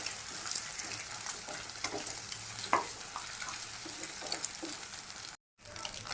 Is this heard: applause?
no